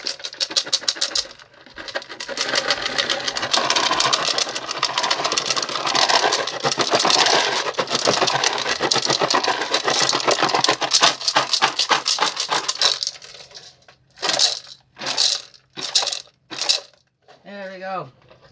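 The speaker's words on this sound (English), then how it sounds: "Here's my rattle." A handheld rattle shaken in quick, steady bursts for about thirteen seconds, then a few separate louder shakes with short pauses between them, close to the listener and with no talking.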